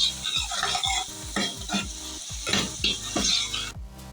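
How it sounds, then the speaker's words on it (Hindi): Egg ghotala masala with coriander, green onion and green chillies is stirred in a hot pan, a rhythmic series of loud spatula scrapes and clinks over a constant frying sizzle, ending abruptly. "अब हम इसको अच्छी तरीके से मिक्स कर लेंगे।"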